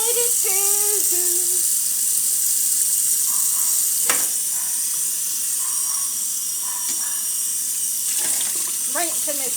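Water runs steadily over a hot pan in a kitchen sink, hissing and sizzling continuously at close range with a few faint clinks.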